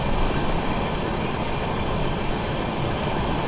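Sealdah–New Delhi Rajdhani Express running non-stop through Subedarganj station, a steady, loud, dense rumble of wheels and carriages on the rails without a pause or lull.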